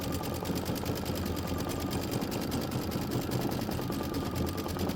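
An embroidery machine stitches a poinsettia design at about 800 stitches per minute, giving a steady, close, continuous mechanical whir with a fast even needle rhythm throughout and no talking.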